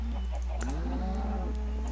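Minecraft cows moo in a game farm setting, several low drawn-out calls overlapping under a steady low hum, with a few short clicks in the background.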